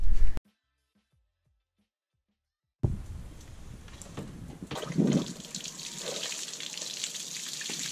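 A hose feeds water to the outboard motor of a cheap pontoon boat under restoration: after a short silence, water starts running and splashing steadily nearby, with a brief louder gush.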